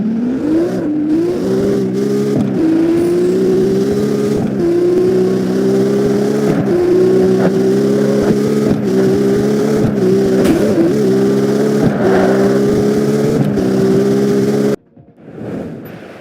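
A hacked car's engine in the CarX Street racing game holds a loud, sustained high-rpm drone with small rises and dips as gears shift, close and continuous before cutting off abruptly near the end.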